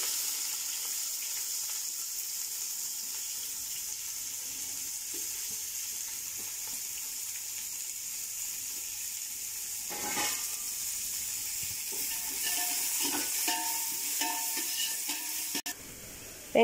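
Onions and green chillies frying in a pan for homemade chicken biryani, a soft steady sizzle with occasional scraping stir strokes and a brief clatter near the end, no voices.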